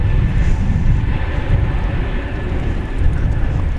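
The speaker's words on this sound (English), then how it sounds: "777 with the One World livery. You're about to see it in this shot as it approaches the starting gate for takeoff on 18 left." American Airlines Boeing 777 in oneworld livery taxiing toward runway 18 Left at Dallas/Fort Worth, a steady broad engine rumble, loud and unbroken throughout with no voices.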